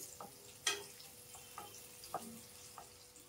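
Onions and curry leaves fry quietly in a pan, giving a faint hiss broken by a few sharp pops and taps of a spoon stirring.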